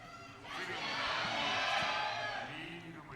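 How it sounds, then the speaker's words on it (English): Hanwha Life fans cheer in an esports arena during a League of Legends LCK match, with a crowd roar swelling loud and sustained for a couple of seconds before easing back to a background murmur. "the Hanwha Life fans still working out their cheer"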